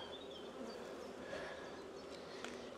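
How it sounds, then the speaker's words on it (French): Honeybees drone around an opened hive during a spring inspection, a faint continuous buzz with a few passing individual bees, no talk. "Il y a tellement d'abeilles là."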